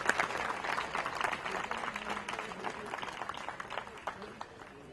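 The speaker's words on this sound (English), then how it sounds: "a big round of applause for the Honor Guard and our Beachmont Elementary School children" An audience at an outdoor park re-dedication ceremony applauds for an honor guard and elementary schoolchildren, a steady patter of clapping with some voices mixed in.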